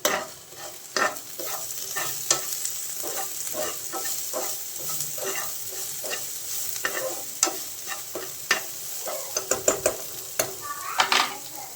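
A spoon stirs a ginger and milk curry in a pan, freshly seasoned with salt and coriander powder, giving close, continuous scraping and soft sizzling with clinks against the pan throughout.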